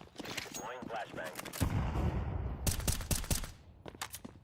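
A flashbang in Counter-Strike 2 goes off as a loud burst, followed by a run of sharp gunfire-like bangs and game noise, with a voice speaking early on.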